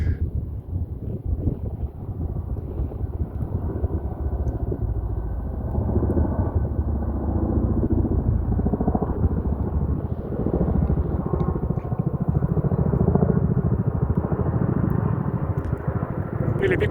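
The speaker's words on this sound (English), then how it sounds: "Yep, definitely helicopters." A low, heavy rotor drone from large helicopters rumbles continuously overhead on the Continental Divide Trail, mixed with gusty wind buffeting the microphone, and the helicopter noise swells slightly toward the end.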